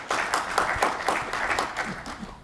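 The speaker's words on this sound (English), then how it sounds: "You can give him a round of applause." A civic event audience gives a speaker a brief round of applause, a modest spread of clapping with distinct rhythmic hand claps, moderately close.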